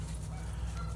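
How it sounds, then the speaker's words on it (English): Geese quack by the Maumee River in a brief, faint burst of cackling over a low background hum. "The geese are having a field day of quacking."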